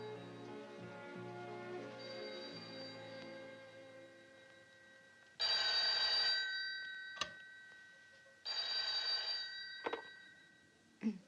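An old telephone bell rings in two loud, jangling bursts separated by a pause, each ending with a sharp click, following a stretch of sustained tonal music.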